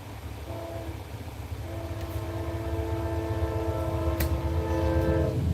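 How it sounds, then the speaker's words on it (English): A train passes at a distance, a steady low rumble that slowly builds, with sustained horn-like tones layered over it and a brief sharp high squeal near the end. "Train going by as I'm saying that."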